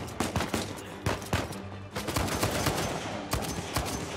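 Rapid bursts of gunfire in the video game Uncharted 4, loud and close, with sharp repeated shots in volleys and a sustained stretch of rattling automatic fire near the end.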